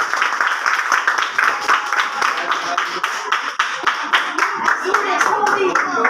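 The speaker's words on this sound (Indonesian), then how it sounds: "beri tepuk tangan untuk kelompok 3" Classroom of students clapping for a student group, a dense, steady burst of many hands lasting several seconds, close and lively, with scattered voices mixed in.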